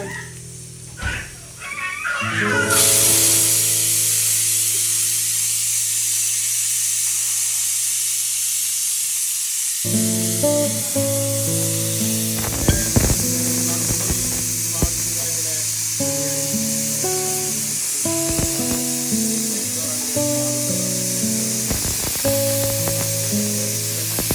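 A pressure cooker on the stove releases a loud, steady hiss of steam that runs almost unbroken for over twenty seconds, with music and faint clatter underneath.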